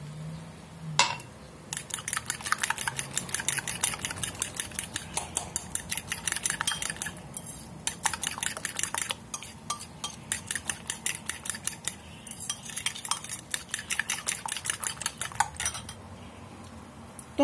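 Milk and egg mixture whisked briskly in a bowl with a fork or whisk, a rapid, steady clatter of metal on the dish in long runs with brief pauses.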